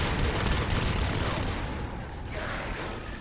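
Continuous loud gunfire and battle noise from a Natural Selection 2 tournament match, with dense overlapping shots and a pistol among them, forming a harsh wall of sound that eases slightly toward the end.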